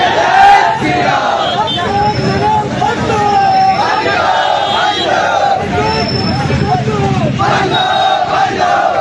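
A large crowd chants slogans in unison, voices loud and close with a repeated rhythmic cadence, set against street noise and a dense babble of shouting throughout.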